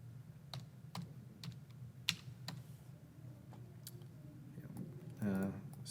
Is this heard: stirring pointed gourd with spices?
no